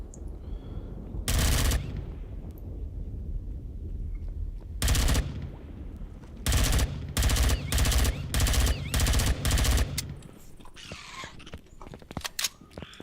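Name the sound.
gunfire in video game Empyrion Galactic Survival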